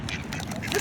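A duck quacking in a park, a few short nasal calls heard close by amid overlapping voices and background chatter.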